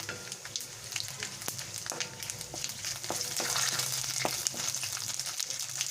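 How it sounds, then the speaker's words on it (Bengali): Bay leaves, whole cumin seeds and spices fry in hot oil with a fairly soft, continuous sizzle and scattered small crackling pops and spits, close by with no voices. "মশলাটাকে আমি ভালো করে ভেজে নিচ্ছি"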